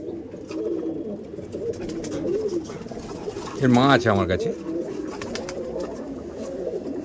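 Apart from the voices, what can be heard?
pigeons cooing at a pigeon loft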